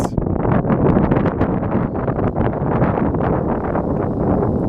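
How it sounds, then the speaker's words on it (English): Wind gusts across an exposed mountain viewpoint on the road through the Cascades near Mt. Adams, a steady, loud rushing buffet against the microphone that carries on without a break. "we've also got a bit of wind"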